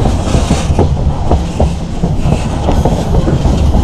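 A freight train wagon rattles and clanks loudly on the rails while trainhopping across northern Russia near Karelia. The clickety-clack of the wheels is steady, close and continuous, with no talking.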